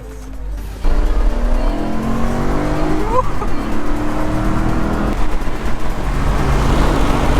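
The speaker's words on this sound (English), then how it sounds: "The nice thing about having a fast car is we get back up to speed pretty quickly." A Kia Stinger with a custom vinyl wrap accelerates back up to highway speed after a toll, its engine note rising steadily and loud from inside the car, with a brief pitch sweep midway.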